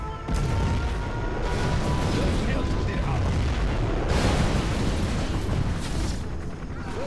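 Nuclear missile launch and blast in the real-time strategy game Command & Conquer Generals Zero Hour: a loud, sustained rumbling roar with deep booming surges, steady for several seconds and swelling again midway, under faint game noise.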